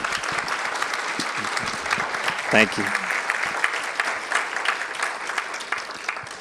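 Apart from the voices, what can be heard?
audience applause for a speaker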